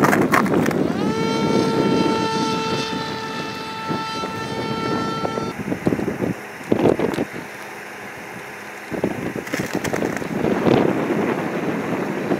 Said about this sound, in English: about 10 meters per second wind